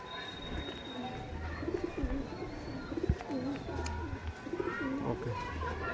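Kolkata pigeons coo softly and repeatedly, their low rolling calls recurring throughout over faint background murmur.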